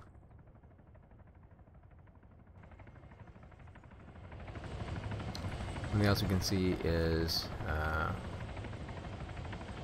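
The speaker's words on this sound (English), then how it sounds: "moving from a helicopter to a boat." Helicopter in a video game, a steady low engine drone that grows louder partway through as voices speak over it.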